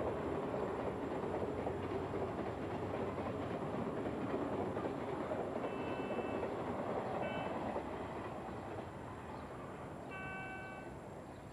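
A passing train bound for Aomori, seen from an apartment window in Oji, Kita ward, Tokyo, rumbles as a steady broad roar that eases toward the end, with faint high squeals of wheels or rails partway through.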